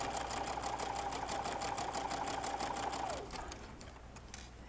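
A sewing machine runs steadily, stitching a quarter-inch quilt seam on a wall hanging, with a fast even whir that slows and stops near the end. No one speaks.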